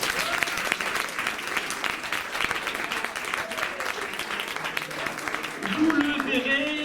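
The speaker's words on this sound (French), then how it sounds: "est-ce que vous pouvez les applaudir?" An audience applauds at an indoor French improv and eloquence stage event, with steady clapping lasting several seconds and a voice briefly audible at the end.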